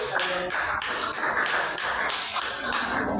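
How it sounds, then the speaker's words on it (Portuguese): A church congregation claps strongly for Jesus during a sermon, a rhythmic, unison beat of hand claps repeating steadily at close range with no talk. "E as palmas bem fortes para Jesus mais uma vez."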